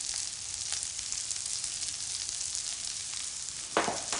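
Soft onions sizzle and fry steadily in a pan as spices are added for a Moroccan-style dish, a continuous close hiss with a brief louder stir or scrape near the end.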